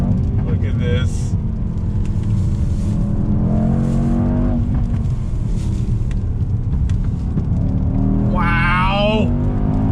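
A 2021 Mercedes-AMG E63 S wagon engine pulls hard on throttle, a loud continuous roar rising in pitch with smooth gearshifts, while people exclaim over it near the end.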